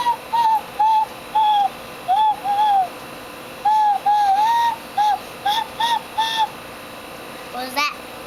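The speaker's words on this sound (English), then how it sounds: "This is where you blow on, and you have to put your two fingers on there, and this is where the sound comes out." Someone blows a handmade bird whistle in a series of short, clear, warbling hoots, about a dozen bursts in irregular rhythm with brief gaps, close and fairly loud, ending with one rising squeak.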